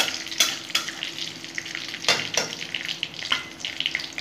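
Whole spices, including bay leaves, tempering in hot oil crackle and sizzle loudly and close, broken by several sharp spatula scrapes across the pan and no voices.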